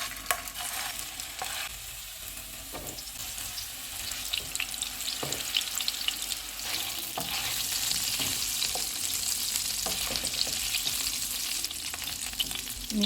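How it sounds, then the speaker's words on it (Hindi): Meatballs fry in hot oil in a frying pan over low to medium heat, a steady close sizzle and crackle broken by occasional stirring and scraping sounds, with no talking. "मैंने सारे मीट बॉल्स तैयार कर लिए हैं, अब हम इनको फ्राई कर लेते हैं।"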